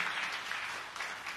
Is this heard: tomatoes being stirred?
no